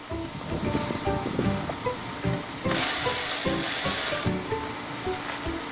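A ratchet fitted with a 10mm socket loosens the negative battery terminal on a 2008 BMW X3, giving close mechanical clicking and clattering with a brief broader burst of noise partway through.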